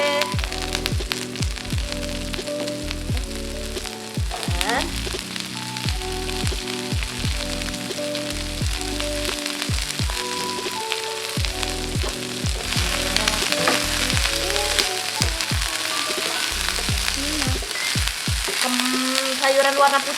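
Cabbage fries in a hot pan with a steady loud sizzle, broken by repeated knocks and scrapes of stirring, close up and without talk.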